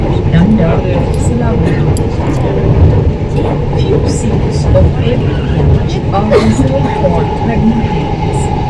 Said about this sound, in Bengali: মেট্রো ধরবো, ধরে ওই ইস্কনের দিকে রওনা দেবো